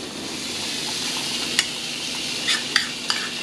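Cheese sizzles steadily in a hot, unoiled waffle iron as a close, even hiss, broken near the end by a few sharp clicks and taps. No one speaks.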